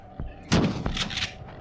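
Gunfire in a video game set in a desert: a faint early pop, then one loud, sharp shot followed by a smaller report, with a short echoing tail.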